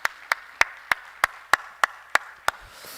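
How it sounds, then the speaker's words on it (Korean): Evenly spaced, loud claps, nine in quick steady rhythm, from a church congregation applauding in encouragement during a service, with the last fading into quiet. "우리 다시 한번 박수로 또 격려하겠습니다."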